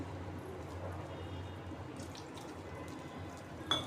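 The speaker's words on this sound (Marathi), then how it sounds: "थोडं थोडं पाणी घालून पीठ भिजून घेऊ." Small amounts of water are poured into gram flour batter for ridge gourd fritters, giving faint, soft trickling and splashing under a steady low background hum.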